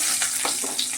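A bay leaf dropped into hot oil with whole cumin sizzles loudly and steadily for a moment, with a few scraping stirs over the continuous hiss.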